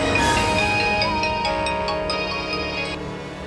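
A phone ringtone plays loudly and steadily at close range, a bright repeating electronic melody carrying for a few seconds without a pause.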